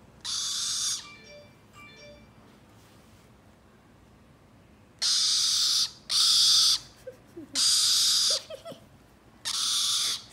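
A pet bird calls while playing with a child, giving several loud, sharp, sustained screeching cries in separate bursts, close by, with quiet gaps and faint thin chirps between them.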